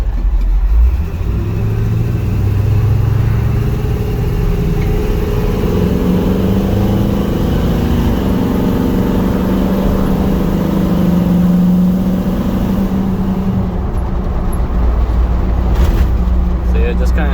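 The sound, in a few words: car engine revving, sputtering out around 3,000 RPM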